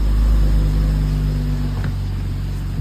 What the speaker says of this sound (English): Started the vehicle up